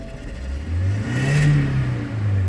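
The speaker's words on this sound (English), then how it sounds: "let me go ahead and rev it up and give it a rev and see" A car engine revs up from idle during a misfire check on a car that stalls when the AC is turned on, the rising hum swelling and holding steady for a couple of seconds, close and fairly loud.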